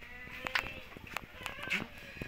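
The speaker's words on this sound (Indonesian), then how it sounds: "masih ada banyak lagi kambing-kambing yang persiapan besok mau dijual tentunya" Goats kept for sale bleat several times in short, overlapping calls over a busy background, with some faint voices nearby.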